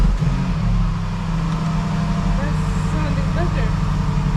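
Rebuilt, previously damaged Range Rover 5.0 V8 supercharged engine running, a loud, steady low rumble close by with a constant droning hum throughout and faint higher squeaks over it.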